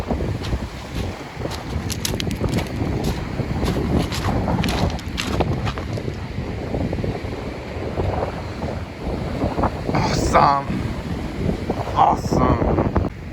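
Rough ocean surf pounds a rocky shoreline at Black Point in Narragansett, Rhode Island, with gusting wind buffeting the microphone and waves crashing loudly and irregularly, one after another.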